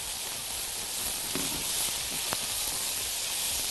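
Steady soft sizzle of onions frying in a pan for a smash burger, stirred with a couple of faint scraping clicks, low and even with no talking.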